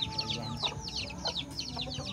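Chickens cluck and chirp in short, repeated bursts close by on a countryside farm in the Philippines, with a steady outdoor background hum beneath them.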